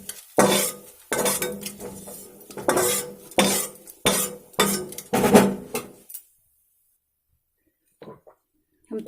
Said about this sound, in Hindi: तो आप देख रहे हैं ये चूड़ा कितना फूला फूला अच्छी तरीके से भुना रहा है।